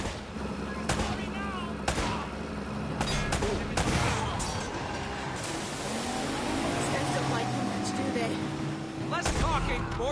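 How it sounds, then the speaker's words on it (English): Gunfire in the Uncharted action game, repeated shots and bursts scattered throughout amid music and game effects, with voices talking over the continuous din. "More shooting!"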